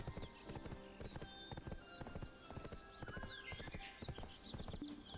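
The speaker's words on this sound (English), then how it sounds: "I fucking hate this horse." Horse hooves clip-clop steadily in the video game Black Desert, a quick, loud rhythmic patter of footfalls with an occasional whinny and bright game sound effects over them.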